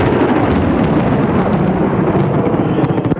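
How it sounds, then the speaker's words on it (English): Deep, sustained rumble of rolling thunder during a fierce storm in Perth, loud and continuous with a dense low roar and no pauses. "Deafening rolls of thunder, spectacular flashes of lightning and driving rain."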